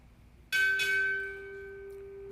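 A ship's bell is struck twice in quick succession at a Navy chief petty officer pinning ceremony, two bright close strikes whose ringing tone lingers and slowly decays.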